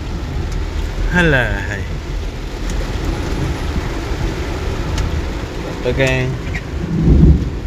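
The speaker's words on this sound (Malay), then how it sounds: "Ribut. Angin kuat." Heavy rain and gusting wind roar continuously in a thunderstorm, with rumbles of thunder, while a person speaks briefly over the storm beneath an apartment building.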